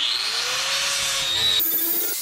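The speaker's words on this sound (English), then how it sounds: "we're gonna grind this here piece out, solid round stock" Grinder working on a piece of solid round steel stock being shaped into a metal-shaping dolly, a steady high whine with a slowly shifting pitch that holds continuously and changes tone near the end.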